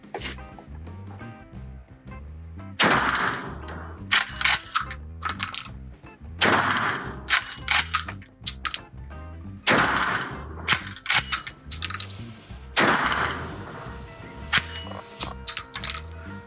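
A firearm fires a series of four cartridges, each a sharp, loud report spaced a few seconds apart, with handling clicks and rustles between shots.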